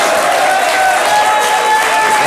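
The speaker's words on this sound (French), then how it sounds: "ça mérite bien ces quelques applaudissements" A studio audience at a French television show applauds, a dense and loud wash of clapping that continues evenly throughout.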